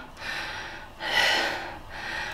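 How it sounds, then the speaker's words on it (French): A woman out of breath pants heavily, with loud, close breaths in and out in a slow, uneven rhythm and no words. "C'est pas normal d'être essoufflée comme ça, ça fait longtemps que je n'ai pas fait de sport."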